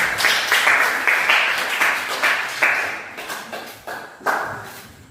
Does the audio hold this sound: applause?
yes